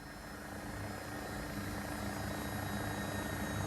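AW109SP helicopter in a flight simulator game, banking into a steep right deceleration turn with the collective lowered; a loud, steady rotor and turbine drone fills the whole stretch with no one talking.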